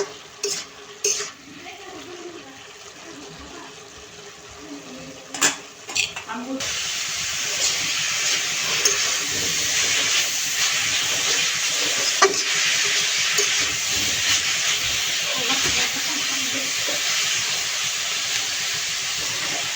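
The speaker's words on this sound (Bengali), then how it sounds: "এই যে আমার শাকটা আমি যে ছোট কড়াইয়ের মধ্যে ডাইলে ফেলছি, শাকটা কমপ্লিট।" Cooked leafy greens are stirred with a utensil and scooped into a small wok, making scraping, clattering metal and a steady sizzling hiss after a few sharp knocks at the start.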